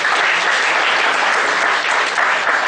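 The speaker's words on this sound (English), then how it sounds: "let's give her a big round of applause" Steady, loud applause from an audience at an inaugural rankers' meet session, a continuous wash of many hands clapping with no voices on top.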